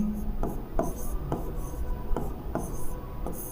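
Pen scratching across paper in a series of short strokes at an even pace, close and fairly quiet, with no voices present.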